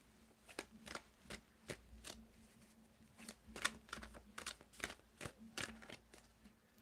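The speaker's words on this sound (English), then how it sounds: "So Ren, I want you to tell me when to stop shuffling, Ren." A deck of tarot cards being shuffled by hand, a steady run of quick riffling bursts and soft slaps, close and fairly quiet, with no talk over it.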